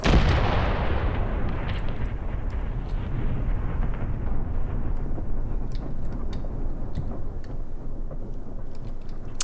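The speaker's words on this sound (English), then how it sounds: "Drop more high explosive onto the enemy infantry." Artillery high-explosive barrage in the Graviteam Tactics Mius Front war game: a loud opening blast rolls into a continuous low rumble of distant impacts, with sharp scattered cracks and pops throughout, no voices.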